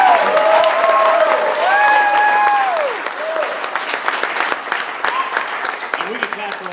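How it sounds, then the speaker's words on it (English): A crowd applauds baseball player Kolten: loud, steady clapping from a sizable audience carries through nearly seven seconds, thinning slightly toward the end, with voices and whistles mixed in. "let's give Kolten another round of applause"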